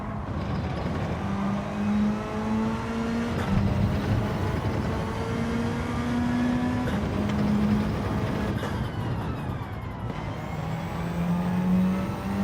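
A race car engine in Gran Turismo revving loudly and steadily, its pitch climbing and dropping through repeated gear changes as it drives, with no talk over it.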